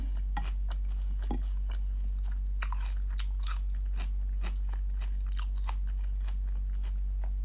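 Close-up crunchy chewing of food with onion, repeated crisp bites and mouth sounds in an uneven rhythm over a low steady hum, with no talk.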